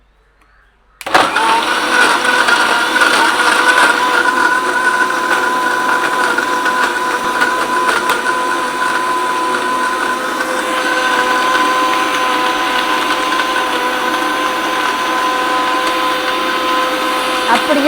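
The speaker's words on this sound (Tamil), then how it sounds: "மூடிட்டு மிக்சியில் வச்சு அடிச்செடுப்போம்" A kitchen mixer grinder starts abruptly and runs loud and steady, whirring as it blends an iced summer drink close up for well over fifteen seconds.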